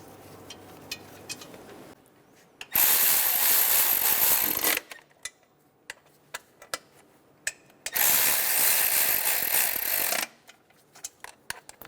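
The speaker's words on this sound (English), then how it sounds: "Go around snugging down the bolts." A hand ratchet snugs down the nuts on the fuel injector studs of a 2003-2007 Honda Accord, with two long, loud bursts of rapid clicking separated by short bursts and isolated ticks.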